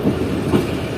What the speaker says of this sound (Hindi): ट्रेन हमारी जो है वो अप्रोच कर रही है नवाबशाह रेलवे स्टेशन पर